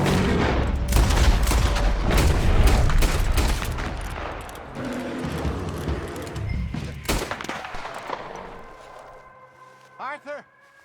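Red Dead Redemption gameplay gunfire rattles in a dense volley of rapid shots and booms, with voices shouting over it, then thins to scattered cracks before a tonal game sound closes the sequence.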